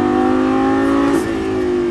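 A car engine hums at steady mid pitch, rising gently before easing off near the end, close and loud with no voices.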